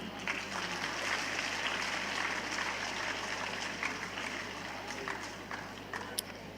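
Dense, steady applause from a large audience at an international school fair, sustained at moderate level across the whole stretch with no clear gaps.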